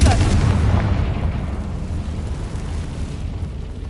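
Confringo blasting curse exploding in a Harry Potter video game: a single loud, deep boom that hits at once and rumbles away over a few seconds, close and heavy.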